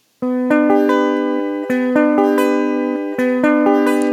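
Guitar notes ring out clearly and loudly, struck one after another in a steady picked pattern, each tone sustaining into the next.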